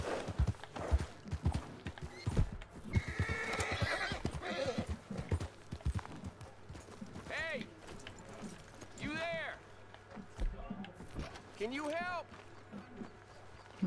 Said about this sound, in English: A goddamn horse got spooked and run off.